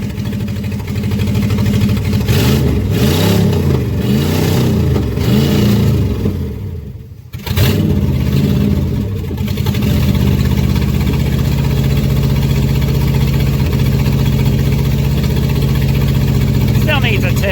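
The carbureted engine of an abandoned 1989 Dodge Ramcharger 2wd runs loud and close with a steady rumble, a brief dip partway through, and someone talking over it.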